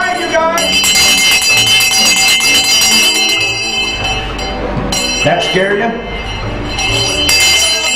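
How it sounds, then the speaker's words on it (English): A school bell in a one-room schoolhouse rings loudly and repeatedly with bright, sustained clanging throughout, while a person speaks briefly over it. "We ring the bells for the students that come in to start their classes."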